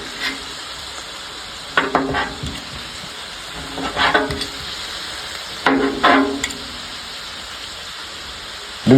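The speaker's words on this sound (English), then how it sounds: "Go ahead and cut our steak into pieces." Steak pieces sizzle on a hibachi grill, a steady frying hiss broken by repeated scraping, cutting bursts about every two seconds, close and fairly loud.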